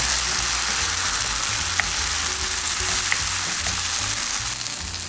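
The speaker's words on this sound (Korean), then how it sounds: "이건 얇게 구울수록 맛있어요." Thin buckwheat pancake batter with vegetables and broth frying in a pan, a steady dense sizzle with a faint tap or two, close and continuous.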